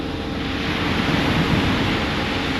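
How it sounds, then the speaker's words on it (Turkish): Sea waves wash steadily onto a beach on the island of Lesbos, a loud continuous surf roar mixed with wind buffeting the microphone, with no talk. "Deniz de güzel görünüyor]] Caner"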